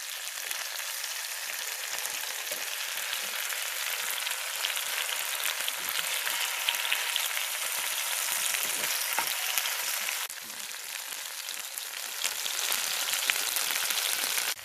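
Pepper chicken frying in a pan, a steady close hiss and crackle of hot oil that runs unbroken, with a brief dip partway through as the pieces are turned.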